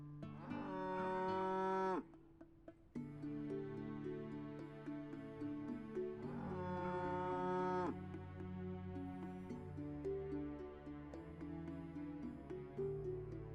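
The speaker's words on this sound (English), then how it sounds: "There's some cows." Several cows moo in the Teddy's Haven video game, long drawn-out calls in clear rhythmic bursts over steady background game music, loud and close, with no talking.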